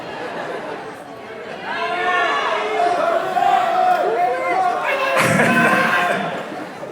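An audience at a Halloween Horror Nights panel at Midsummer Scream 2024 yells and cheers together in a sustained, roomy roar that swells mid-way and stays loud to the end.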